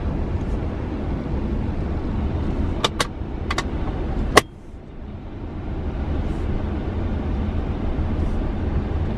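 Brand new BMW 530i cruising on the road, a steady smooth cabin rumble with a few sharp clicks and a brief knock partway through, then the quiet drive continues.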